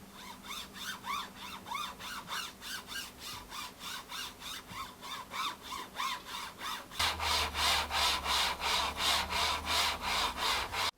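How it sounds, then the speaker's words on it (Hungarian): A mouse is rubbed back and forth across a rough glass mousepad, giving rhythmic, harsh scraping strokes that turn louder and denser partway through. "egy kifejezetten érdes felületet kapunk, ami már az ujjadat végighúzva is hallod és érzed, hogy valami itt bizony nem stimmel"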